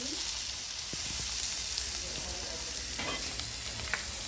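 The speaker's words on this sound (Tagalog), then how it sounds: "habang ginigisa pa po yan" Onions sauté in a pan for a simple provincial green shell dish, producing a continuous, even sizzle with a few light clicks and scrapes of stirring.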